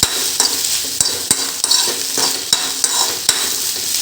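A spoon stirs okra roast with curry powder in a dry pan with no water. Rhythmic, close scraping strokes repeat over a constant frying sizzle, with no voices.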